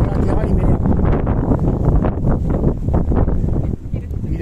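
Strong side wind buffets a microphone on a touring mountain bike ride along a coastal road between Benicassim and Valencia, a steady loud roaring rumble with gusting surges throughout.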